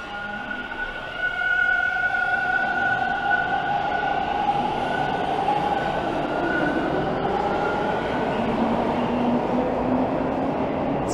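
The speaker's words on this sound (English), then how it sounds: "It's kind of hard to talk over the noisy train sometimes." A loud, steady rumble of a train rolling past in downtown Toronto, with a continuous roar and faint metallic tonal squeals drifting in and out, no voices.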